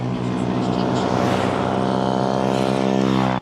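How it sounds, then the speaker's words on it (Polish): Engine drone from young people riding jet scooters near a beach, a steady loud harmonic hum lasting throughout and cutting off abruptly at the end. "młodzież szaleje na skuterach"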